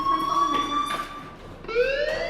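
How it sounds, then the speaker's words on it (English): A fire alarm in the video game Life Is Strange sounds as a loud electronic tone, steady and then shifting upward in pitch near the end, with faint background noise. "Hey, do you hear that fire alarm?"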